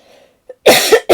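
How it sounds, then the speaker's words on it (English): Two harsh, close coughs in quick succession, preceded by a faint breathy murmur. "I'm still coughing"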